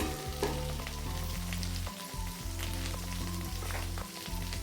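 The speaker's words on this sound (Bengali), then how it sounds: "আলুগুলোকে হালকা করে ভাজার পর এখানে আমি দিয়ে দেবো ঝিঙে" Potatoes and ridge gourd fry in a pan, a steady crackling sizzle with scattered pops over a low, repeating background hum, close and without speech.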